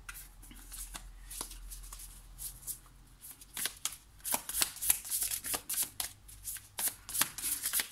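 A deck of tarot cards is shuffled close up, with a run of soft crisp riffling and slapping bursts in irregular rhythm, quiet and without talk.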